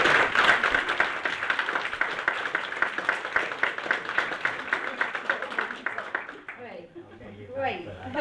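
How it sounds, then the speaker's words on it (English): A conference audience at a 30th anniversary event applauds in a dense, steady wash of clapping for about six seconds. A voice then speaks as the clapping fades. "So if we could just give him a big round of applause."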